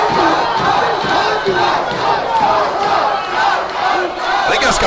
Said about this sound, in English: The crowd heavily favoring Marco Esparza